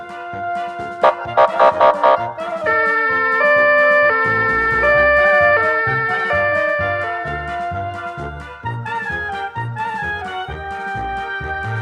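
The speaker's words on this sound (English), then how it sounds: "Police car." A police car siren wails loudly in a steady tone, mixed with bright musical sounds and no talk.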